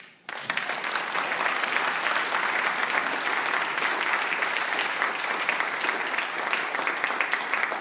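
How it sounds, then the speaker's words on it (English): Audience at the CTAF 6th Animation Festival for Short Films and Motion Design breaks into sustained, even applause for the winners after a brief quiet start, a full steady roar of clapping from a large room. "So to these three and all the winners, a round of applause, please."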